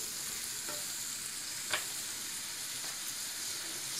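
Chopped onions fry in a pan until light golden, giving a steady, soft sizzle with occasional faint stirring clicks, and no one speaks.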